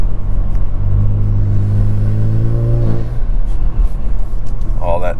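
A Kia Stinger GT in sport mode accelerates hard, its engine note rising steadily in pitch with strong rumble from inside the cabin, then shifting and settling into road noise.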